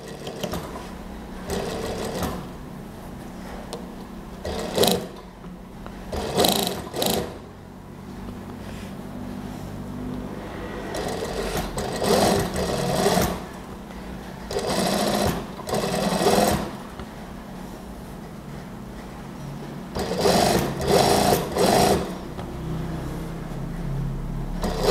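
Sewing machine stitching a Japanese zipper onto a gamis, running in several bursts of a few seconds each, separated by short pauses under a steady low hum.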